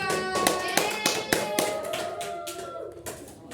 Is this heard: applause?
yes